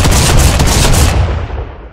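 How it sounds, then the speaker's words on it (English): A drum-fed shotgun in Fortnite fires a quick burst of several loud, close blasts in a row, then the sound cuts off and fades. "sights of a drum shotgun shooting multiple bullets"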